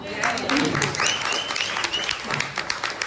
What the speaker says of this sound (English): And a big clap to Jess for doing that.